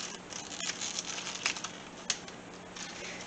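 Knife chopping a bundle of green onions on a cutting board: quick, faint, irregular taps under a steady background hiss, with no voices.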